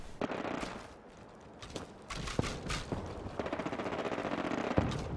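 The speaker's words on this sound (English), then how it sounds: "Gunfire coming from?" Bursts of rapid gunfire crackle at moderate distance in Fallout 4, with a sentry bot firing, a longer sustained volley near the end over a low background rumble.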